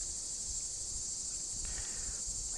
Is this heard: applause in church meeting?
no